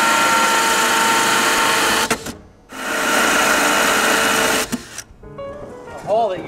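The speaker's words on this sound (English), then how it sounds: "Using a masonry drill bit and a rotary hammer drill motor, you're going to drill the hole through the surface." A rotary hammer drill with a masonry bit bores through the surface of a roof tile, sounding loud and close as a steady broadband grind in two long bursts separated by brief pauses, followed by quieter handling noise.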